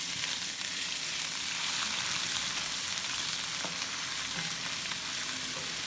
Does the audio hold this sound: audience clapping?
no